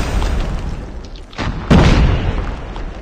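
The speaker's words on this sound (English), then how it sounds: "Enemy grenade." An enemy grenade in Call of Duty Mobile explodes with a single loud, close boom, preceded by a rising whoosh and followed by a rumbling decay over continuous battle noise.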